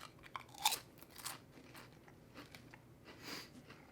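Pringles potato chips crunched and chewed close up, with one sharp bite followed by several softer crunching chews, fairly quiet and with no talking.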